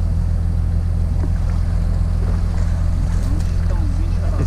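Loud engine of a nearby vehicle beside a fishing spot by the water, a continuous low, throbbing drone that stays steady and close throughout.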